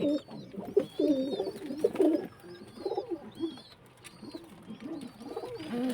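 Madrasi and desi pigeons coo in a loft, overlapping throaty rolling phrases close by, with thin chirps from young birds above them and no talk.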